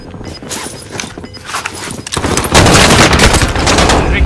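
Automatic gunfire crackles in Warzone on Rebirth Island, with loud rapid bursts of shots in the first half and then a denser, sustained barrage of close-range fire.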